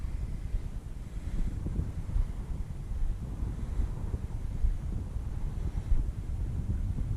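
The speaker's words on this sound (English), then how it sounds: "A little bit windy today." Wind blowing across a frozen lake in Manitoba during an ice fishing outing, a steady low rumbling buffet on the microphone with small gusts and no speech throughout.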